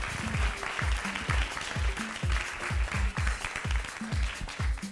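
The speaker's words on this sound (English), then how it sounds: "Can we please give them a quick round of applause?" An audience at a Miss Earth 2025 event applauds a sponsor, with steady, fairly loud clapping throughout, set against loud music that carries a regular, pulsing bass beat.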